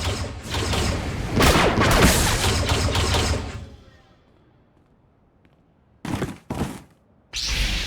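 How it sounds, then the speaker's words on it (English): Rapid blaster fire bursts in Star Wars: The Old Republic, a loud dense barrage for several seconds that fades out, followed by two short bursts and another burst at the end. "is that blaster fire?"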